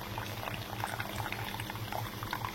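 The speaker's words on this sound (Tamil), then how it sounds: "நல்லா கொதிக்கிட்டோம்" Soft continuous bubbling and popping of sambar at a steady boil in a pot, close and fairly quiet, with no voices.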